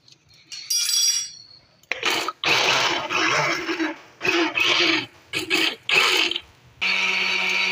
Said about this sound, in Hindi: मैं इसको ग्राइंड कर डालूंगी।